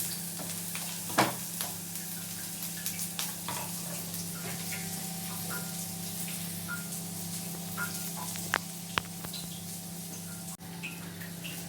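Chopped copra being sautéed in a pan for garlic chutney gives a soft, steady sizzle, broken by sparse clicks and scrapes of a stirring spoon against the metal, quiet and close, with no talk.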